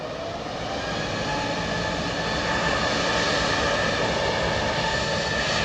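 An Airbus A320 taxiing at Heathrow, its jet engines giving a loud, steady roar with a faint whine, growing slightly louder as it moves.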